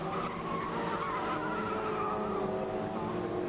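Class B and C saloon racing cars, including a 1992 Fiat Tipo 16v and Cosworths, run on a wet circuit in falling rain, a steady loud wash of engine roar and tyre spray throughout with no talking.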